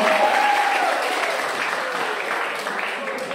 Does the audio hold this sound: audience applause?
yes